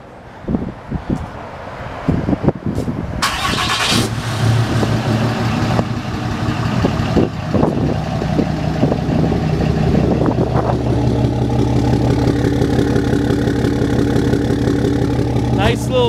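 A 2014 RAM 3500 dually Laramie Mega Cab with a Cummins diesel cranks and fires up, then settles into a steady, close, rumbling idle that runs on continuously.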